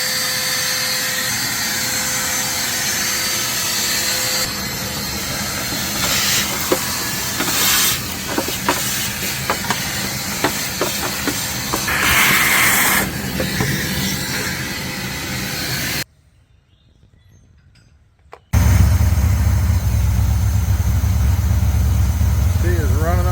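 A 1984 Camaro Z28 engine idles with a steady rumble and hiss, broken by brief clicks, then cuts out for a moment before a louder, deeper engine roar returns.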